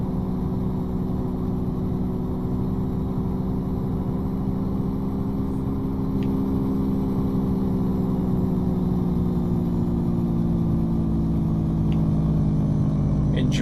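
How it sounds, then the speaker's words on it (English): A truck's engine brake holds back its speed on a downhill road at a construction job in Mexico, a loud, steady low rumble close up that drones on continuously throughout. "Engine brake doing its thing."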